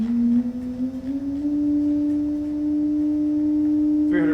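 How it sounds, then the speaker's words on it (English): A sine wave tone from a sound generator glides up and settles at a steady 300 hertz, a loud, pure continuous hum with a faint higher overtone, briefly disturbed at the end. "go back to 300 hertz"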